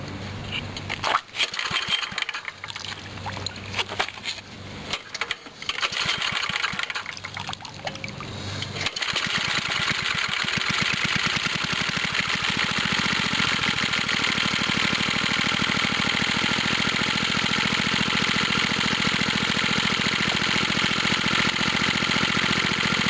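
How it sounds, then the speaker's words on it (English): A generator engine on a water pump rig cranks in several rough, sputtering attempts, catches, and then settles into a loud, steady running drone. "I need to do more tweaking on the generator. Yeah, let's see if it'll start without."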